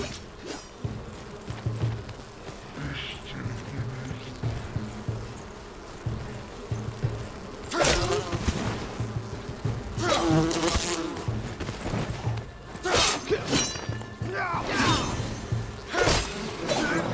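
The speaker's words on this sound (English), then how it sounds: "We've got bees as well." Buzzing bees swarm during a fight in the survival game Enshrouded, a dense insect drone mixed with sharp impact and shattering effects and game noise, with no talk.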